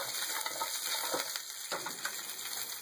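Green beans stir-fry with pork ribs in a hot pan, a constant close sizzle broken by a few scraping stirs and soft clinks.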